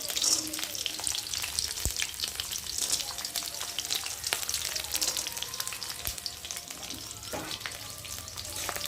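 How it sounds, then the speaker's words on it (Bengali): Spicy semolina with green chili and peanuts frying in a pan, a crackling hiss with frequent stirring scrapes and small knocks throughout, close but moderately quiet, with no speech. "একটু ভালো করে ভেজে নেব।"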